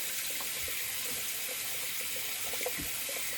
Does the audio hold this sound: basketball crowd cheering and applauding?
no